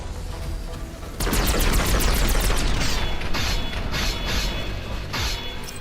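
Rapid SMG bursts from mech combat in the video game Phantom Brigade, a loud clatter of quick shots followed by several shorter bursts, set against mechanical clanking and creaking.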